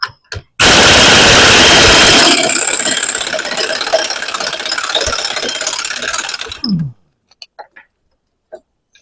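A ratchet wrench cracks loose a bolt on a Tink bucket cylinder during a reseal, producing a loud dense burst of clicking and grinding for several seconds that fades into a few scattered ticks and taps.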